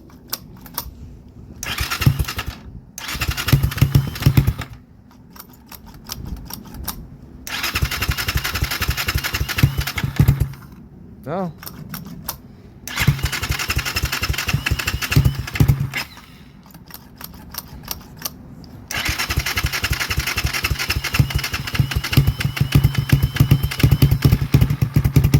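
A Lifan KP Mini 300 motorcycle engine with a ZS175FMN four-valve swap runs close by with a rapid, uneven idle that rises and falls as it is blipped and settles.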